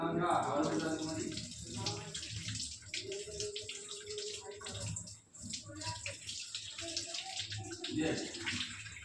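Vegetables are rinsed under running water in a home kitchen, with a continuous splashing, gurgling flow near at hand that is partly covered by someone talking.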